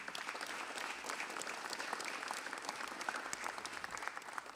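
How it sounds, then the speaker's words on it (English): Clergy, faith leaders and guests at a press conference clap in a steady round of applause, a dense patter of hands that stays faint and distant throughout. "Give yourself a round of applause."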